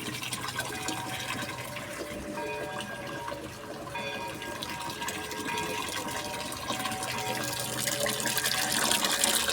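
Water pours steadily into a bucket while fertilizer is being used on home garden plants, a continuous close rushing that grows slightly louder toward the end as the bucket fills.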